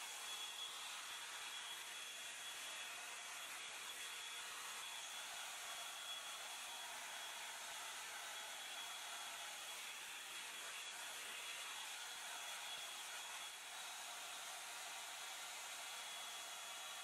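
A Hot Tools One Step Blow Out hair dryer blows in a constant airy whoosh from start to finish, steady and fairly quiet with no talking.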